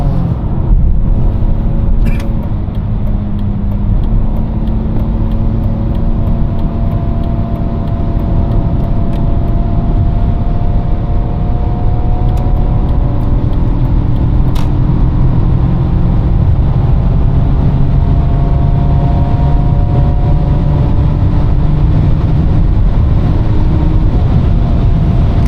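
A BMW E39 523i cruises along a Malaysian highway, giving a steady low engine drone and road rumble from inside the cabin that barely changes over the stretch, with no one speaking.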